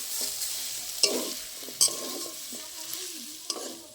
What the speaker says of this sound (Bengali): এবার সর্ষে বাটাটা দিয়ে আর একটু ভালো করে ভেজে নেব